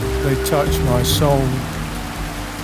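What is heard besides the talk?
heavy steady rain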